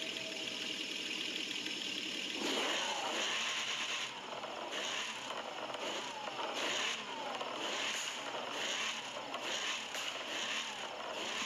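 A car engine in The Crew 2 racing game idles and then revs hard, holding a loud, sustained roar with rising and falling pitch sweeps throughout.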